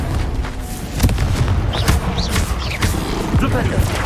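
Confringo blasting spell in the Hogwarts Legacy video game, heard as a loud, booming burst of rumbling impacts and crackling hits over steady game noise, with a few sharper whooshing streaks following.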